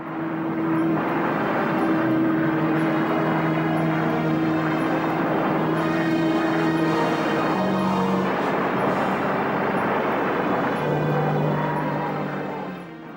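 A World War II Mustang fighter's engine drones loud and steady for several seconds, a sustained roar with a humming tonal edge and no voices.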